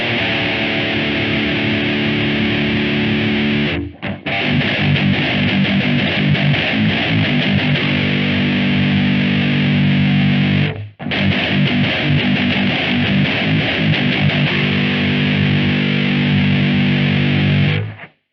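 An electric guitar through an EarthQuaker Devices Palisades overdrive pedal and a Line 6 POD 2.0 plays sustained, gritty distorted chords, loud and continuous, with two brief pauses between passages.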